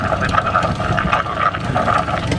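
A tailwheel propeller aircraft passing low at an airshow, a steady droning engine and prop buzz that holds loud and continuous throughout.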